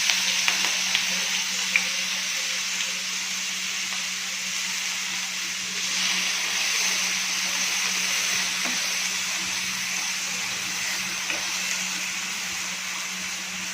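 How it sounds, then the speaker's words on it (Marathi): Small potato pieces frying in oil, a steady close sizzle and hiss with a low hum underneath and a few faint clicks. "हे बटाट्याचे जे छोटे छोटे तुकडे आहेत ते छान फ्राय करून घ्यायचे आहेत ऑइलमध्ये"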